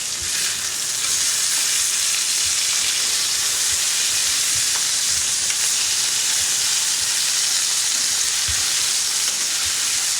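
Chicken sears in a hot pan alongside Vidalia onion, a loud, unbroken hissing sizzle with faint pops and occasional low thumps from the pan, no voices over it.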